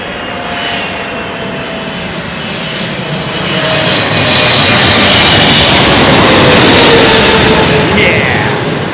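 A big jet airliner roars overhead at London Heathrow, a loud broadband engine rumble with a whining tone that swells to a peak mid-pass and stays strong to the end.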